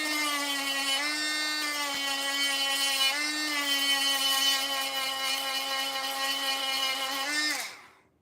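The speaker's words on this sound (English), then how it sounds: "So I take them over here, rough them up with a sander." A power sander runs steadily for several seconds, roughening the slick surface of a puppet facial feature, its high whine dipping slightly under load a few times before spinning down at the end.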